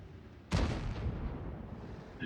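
Self-propelled artillery gun fires in a tank video game, a single heavy boom that rolls off into a fading rumble.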